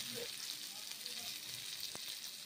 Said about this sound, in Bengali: ভেজে নিচ্ছি, বেগুনগুলো ফ্রাই করে নিচ্ছি।